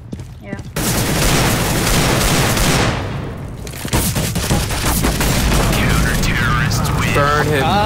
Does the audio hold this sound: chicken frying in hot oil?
no